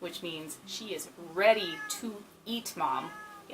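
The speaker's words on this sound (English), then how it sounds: "She does like to yell underneath the door" A house cat meows and whines insistently under a door near supper time, giving several loud drawn-out cries between stretches of close conversation.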